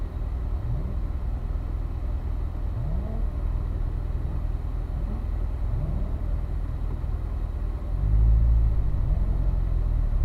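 A car engine rumbles steadily with repeated rising revs as it pulls away on a race track at Spring Mountain, growing heavier near the end.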